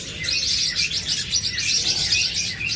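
Pet cage birds such as lovebirds, budgerigars, cockatiels and finches chirping together, a busy stream of overlapping high tweets, close and fairly loud.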